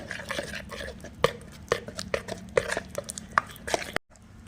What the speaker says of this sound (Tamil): இப்போ இந்த மாதிரி விஸ்கை வச்சு நல்லா பட்டரை வந்து நல்லா மிக்ஸ் பண்ணி எடுத்துக்கலாம்.